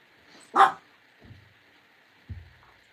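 A dog barks at someone outside, one sharp loud bark followed by two lower gruff woofs spaced about a second apart, close by against a steady background hum.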